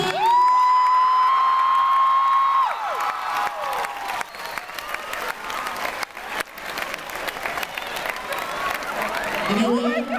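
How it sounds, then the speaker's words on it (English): Sustained applause from a convention panel audience, loud and steady for the full length, with a bright whistle or cheer near the start and crowd noise throughout. "Give me a big round of applause."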